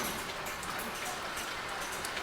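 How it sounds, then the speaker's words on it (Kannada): Steady rain falls without a break, an even hiss of drops spattering on surfaces all around. "ಮಳಿ ಚಾಲು ಆಗೈತಿ ಮಳೆಯಾಗ ಹೋಗ್ಬೇಕಾಗೈತಿ"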